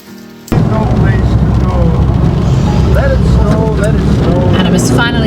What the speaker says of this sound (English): Thought I'd go undercover because it's raining